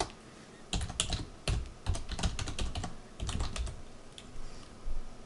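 Administrator account details are typed on a computer keyboard in quick, uneven bursts of close key clicks with short pauses between, and no voices.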